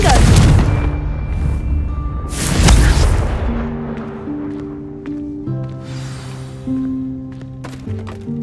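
A Confringo fire spell blasts in Hogwarts Legacy, a loud booming explosion that rumbles and decays, followed by a second burst, then fades into sustained game music with low tones.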